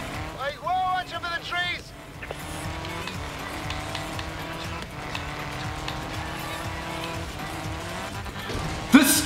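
A fast car races a helicopter in a video game, its engine giving a steady, continuous drone with a rising whine throughout, and a voice is briefly heard near the start.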